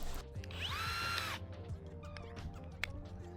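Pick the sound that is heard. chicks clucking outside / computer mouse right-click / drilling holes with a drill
drilling holes with a drill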